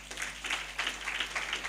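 A church congregation at a Sunday service claps for Jesus, a fairly faint, steady wash of many hands clapping together in a few swelling bursts, with no voices rising above it.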